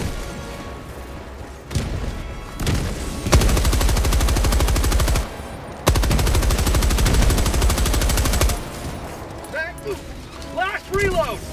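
Long, loud bursts of rapid automatic gunfire in a video game bug-fighting battle, two sustained sprays separated by a brief pause, followed by quieter clanks, with people talking throughout.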